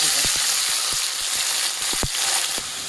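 Potatoes and beans going into a pan of fried onions and chillies, giving a loud continuous sizzle broken by repeated sharp knocks and clatters of stirring, with a slight drop in intensity near the end.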